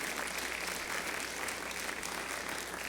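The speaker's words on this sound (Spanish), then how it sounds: "Dale otro aplauso fuerte al Señor." Church congregation applauding, a dense, even wash of clapping that holds steady and fairly distant for the whole stretch, with no voices on top.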